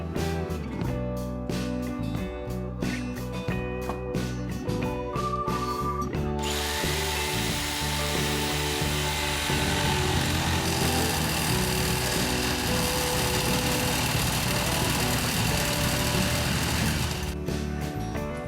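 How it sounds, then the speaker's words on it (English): A jigsaw cuts out the rough shape of a custom gauge mount template, a loud, continuous buzzing drone that runs steadily for the whole stretch with brief shifts in pitch and no speech. "So more cutting with the old jigsaw."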